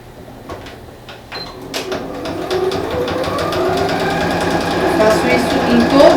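A sewing machine stitches a quilted placemat in a run of rapid mechanical whirring and clatter that builds and stays loud toward the end, with speech heard around it.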